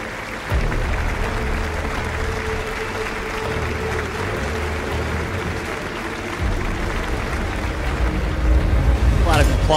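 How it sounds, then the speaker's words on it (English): An audience applauds continuously, a dense wash of clapping that holds steady and grows slightly louder near the end, with voices talking underneath. "That applause."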